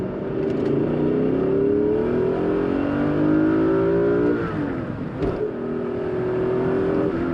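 The engine of a Dinan S2 BMW Z8 roadster revs hard under acceleration as the car breaks traction, a loud, close, rising engine note that climbs through gears, dips briefly, then pulls up again, with no talking.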